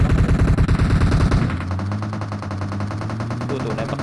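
A machine gun fires in PUBG Mobile, a loud, close, fast burst of rapid shots that stops after a second and a half. A steady droning hum follows and runs to the end.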